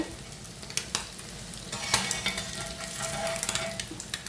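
Eggs frying in a pan for egg curry, a soft, close sizzle with occasional spoon scrapes and taps, fairly quiet and with no talking.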